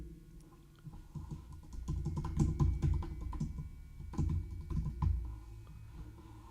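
Typing on a computer keyboard at a desk during a live trading stream: bursts of quick, close key clicks with short pauses between them, no voices.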